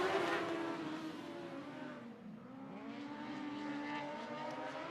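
Dwarf cars race at Sunset Speedway Park, with several engines revving and droning together, the pitch falling and rising as they pass, fairly distant and continuous.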